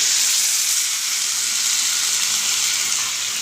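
Boiled peas tipped into sizzling spiced masala in a pan for ghugni, producing a loud, dense, continuous close-up sizzle and hiss with no voices.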